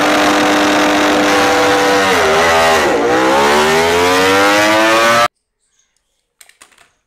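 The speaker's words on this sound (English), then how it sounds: "motorbike" A motorbike engine revs loudly and continuously, its pitch dipping and climbing again, then cuts off abruptly, leaving near silence with a few faint knocks.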